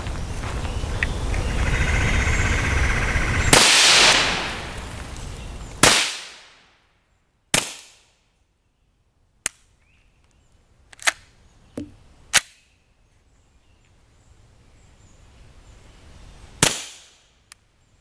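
Suppressed FN Five-seveN pistol firing subsonic SB193 rounds outdoors: a few sharp, separate reports with long quiet gaps between them, each a short crack with a brief tail, some louder and nearer than others, after a noisy opening stretch.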